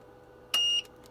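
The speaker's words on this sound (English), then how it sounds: "You have to press and hold it down until you hear a beep." A single sharp electronic beep from a sound system mixer powering on, loud and steady for about a quarter second, followed by a couple of soft clicks in a quiet room.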